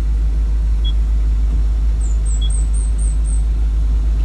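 The diesel engine of a Komatsu PC 200-8 excavator runs under throttle as a heavy, steady low rumble close by, with a few faint high chirps above it.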